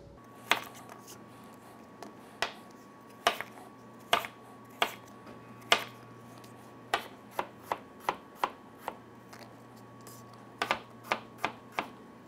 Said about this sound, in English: we can cut it into little diced pieces